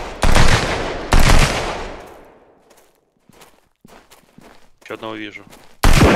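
Loud, close bursts of automatic gunfire in the co-op survival game Sunkenland during a warehouse siege, two heavy rattling volleys, then scattered shots and a final burst, with a player speaking briefly between them.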